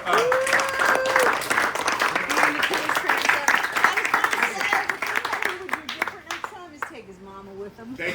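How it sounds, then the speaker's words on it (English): A crowd at an awards event claps steadily in dense applause while voices talk and call out over it, the clapping thinning toward the end. "round of applause for"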